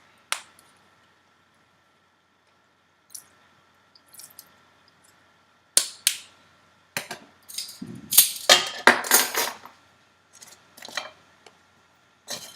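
Almond bar batter of egg and almond extract being mixed in a bowl, heard as soft squishy, wet clicking strokes that come in irregular bursts, louder and denser toward the middle, with no talking.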